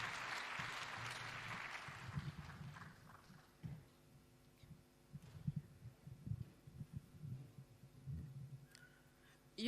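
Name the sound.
audience applause welcoming a speaker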